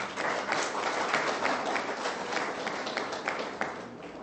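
A crowd applauding at a night vigil in Ghana, dense continuous clapping with some sharper individual claps standing out, fairly loud and steady throughout.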